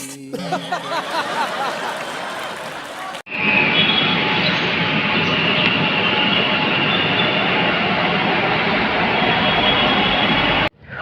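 A metro train rumbles and hums in a steady, loud drone that fills most of the span, following a stretch where people speak over the carriage noise.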